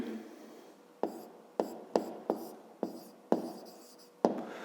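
A pen writes on paper up close in a quiet room, a soft continuous scratching broken by sharp taps of the tip roughly every half second as strokes begin.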